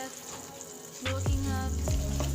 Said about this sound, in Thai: ก็จะเดือดประมาณนี้นะคะทุกคน